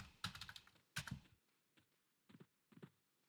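Close, quiet keystrokes on a computer keyboard come in short bursts: two quick clusters of clicks, then a few lighter, scattered taps with silence between.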